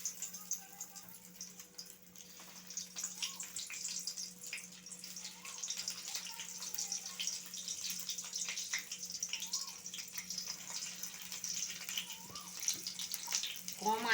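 Egg-stuffed onions set into hot white oil in a wok sizzle and crackle in a steady, fairly quiet hiss that carries on throughout.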